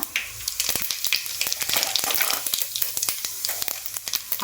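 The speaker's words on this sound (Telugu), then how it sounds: "ఇందులోనే పోపు చేస్తున్నా కొంచెం జీలకర్ర" Cumin seeds hit hot oil still warm from frying, crackling and sizzling with sharp pops scattered across a steady hiss, close by and with no talk.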